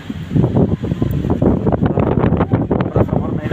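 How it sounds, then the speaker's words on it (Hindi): Strong storm wind roars and buffets the microphone outdoors in a rural village in Fatehpur, Uttar Pradesh, a loud continuous rushing gust that fills the whole stretch. "देखो देखो कितनी तेज आंधी चल रही है।"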